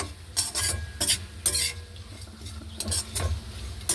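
Six large onions frying in oil in a pan, a steady sizzle broken by repeated bursts of spoon scraping against the pan as the onions are stirred.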